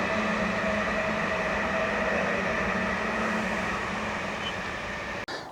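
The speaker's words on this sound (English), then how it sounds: "Another train." A train rumbles steadily past near Needham Lake on the River Gipping route, with a sustained droning hum and faint high tonal whine, fairly loud throughout, then a brief sharp clunk near the end.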